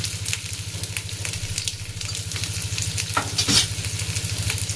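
Small shrimp with salt and turmeric stir-fry in a pan, giving a steady close sizzle with an even low hum beneath and brisk scraping strokes of stirring throughout.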